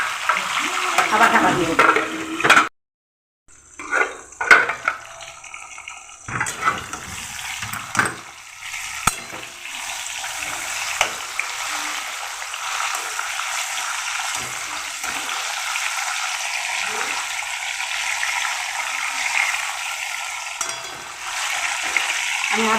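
Pointed gourd (patol) frying in a covered pan, a steady hiss of hot oil running throughout, broken near the start by a brief pause and a lid knock, with someone speaking briefly over it.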